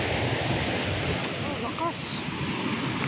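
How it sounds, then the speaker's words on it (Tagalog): Broadband roar of strong ocean surf crashing continuously at Sabang, Palawan, with heavy wind buffeting the microphone and a few faint bird-like chirps mid-way. "Lakas ng alon."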